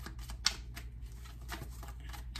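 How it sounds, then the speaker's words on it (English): Tarot cards are shuffled by hand in a quiet room, making soft, rapid clicking and riffling bursts in several short runs, with no talking. "Yeah, I'm just kind of shuffling the cards and just saying what I feel."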